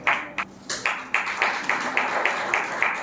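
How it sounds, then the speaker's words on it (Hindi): Audience at a World Book Day public lecture clapping to welcome a speaker: a few scattered early claps settle into steady, evenly spaced hand claps, fairly close and moderately loud, with no talking over them. "मैं चाहूंगा एक बार सामने आ जाएं और जोरदार ताली से आपका स्वागत"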